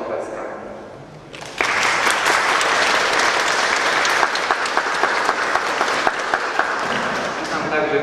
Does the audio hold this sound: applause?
yes